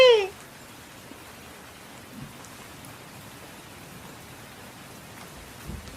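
Rain falls steadily on a rainy day as an even hiss that lasts throughout, with a brief voice at the start and a faint low rumble or thump now and then.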